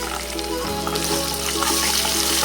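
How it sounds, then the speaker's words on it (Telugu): Ginger garlic paste frying with onions in a pan gives a loud, steady, close sizzle and crackle that runs without a break, with no talk over it. "ఇది పచ్చిపాసన పోయే వరకు మనం ఫ్రై చేసుకుందాం."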